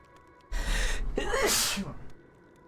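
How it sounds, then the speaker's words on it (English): A single sharp human sneeze, loud and close: a quick gasping intake followed by a burst, then silence. "Oh god, I might sneeze."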